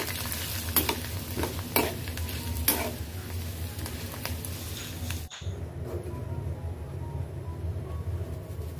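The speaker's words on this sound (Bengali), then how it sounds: "বাসায় এই ঝুরি পাঁপড়টা ছিল, তো সেটা এখন একটু ভেজে নিচ্ছি" Jhuri papad frying in a pan: a dense, steady sizzle with a few sharp crackles, then an abrupt drop to a softer, quieter hiss for the last few seconds.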